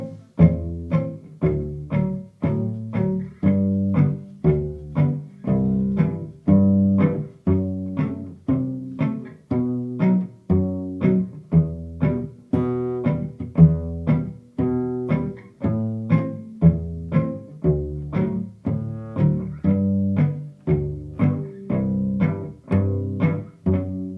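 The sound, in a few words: cello walking bass line, root-fifth pattern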